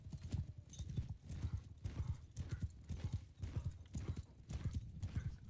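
Horses gallop in a large-scale battle video game, a steady rhythmic clip-clop of many hooves with an occasional whinny, loud and continuous throughout.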